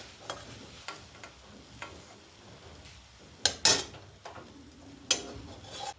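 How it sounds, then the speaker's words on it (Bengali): Mustard greens being stirred and fried with a ground paste of mustard, poppy seed, green chilli and coconut in a pan, heard as scattered scraping clinks and soft sizzling, with a few louder utensil knocks near the middle. "জলের সাথে যে মশলা বাটাটা দিয়েছি সেইটা দিয়ে ভালো করে যে কষে নিচ্ছি"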